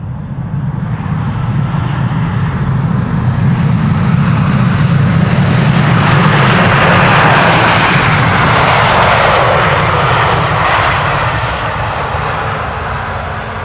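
An Emirates Airbus A380 jet airliner landing at an airport, a loud sustained engine roar swelling to a peak and slowly fading, close and continuous with no talk.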